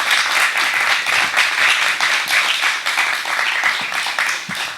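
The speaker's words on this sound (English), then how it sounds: "give them a round of applause" Audience applause at the close of a live conversation about collaboration, steady dense clapping sustained throughout, loud and continuous without voices.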